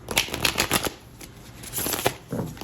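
A deck of tarot cards being shuffled by hand in quick riffling bursts, two separate shuffles with a short pause between them, close and fairly soft.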